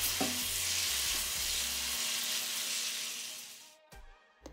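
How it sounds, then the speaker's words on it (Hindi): Boneless chicken fries in hot oil over a high flame, a close, steady sizzle that fades out near the end, followed by a couple of brief clanks. "अब इस ऑयल में हम चिकन को बहुत अच्छी तरह से फ्राई करेंगे।"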